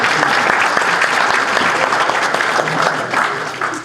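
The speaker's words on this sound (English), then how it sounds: "So give him a round of applause." A room full of people at a book launch applauds loudly and densely, a thick wash of clapping that starts at full strength and tapers slightly toward the end.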